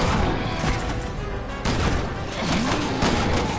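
Gunfire in the Resident Evil game with Leon, a dense continuous barrage of shots and booms, loud and sustained throughout with no pauses.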